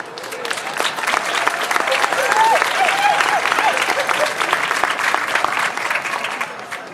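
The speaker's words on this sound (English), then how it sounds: "So let's give another round of applause for Barbara." Crowd applause at a Native American powwow in Delta Park, a dense, lively burst of many people clapping, with some whoops and cheering voices rising above the steady clapping.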